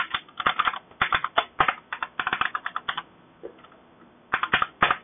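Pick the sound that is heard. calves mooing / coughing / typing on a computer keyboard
typing on a computer keyboard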